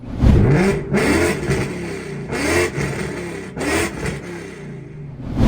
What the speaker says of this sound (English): paired up with a set of long tube headers and a Corsa exhaust, giving this a terrifying sound